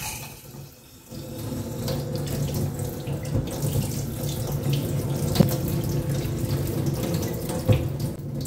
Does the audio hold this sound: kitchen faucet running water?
yes